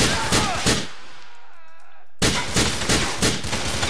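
Gunfire from Grand Theft Auto IV rattles in loud, rapid bursts, breaks off into a short near-silent gap with a faint ringing tail, then resumes in another dense volley.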